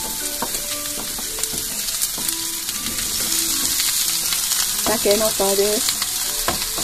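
Daikon and carrot fry in a pot for chikuzenni, a simmered dish made with freshly dug bamboo shoots. A loud continuous sizzle runs throughout with clinks of stirring, and a voice speaks briefly over it.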